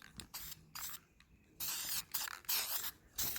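Spray primer applied to a car part in several short, close hissing bursts of varying length, the longer ones toward the end, with brief pauses between.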